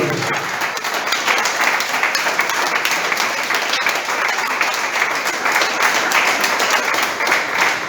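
A church congregation applauds steadily and loudly throughout, a dense wash of clapping with a few voices mixed in.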